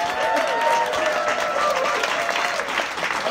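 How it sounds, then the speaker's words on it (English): Dense audience applause fills a club in Hudson, New York, a steady wash of many clapping hands with faint voices and tonal background noise mixed in throughout. "A big round of applause for Will and Johnny."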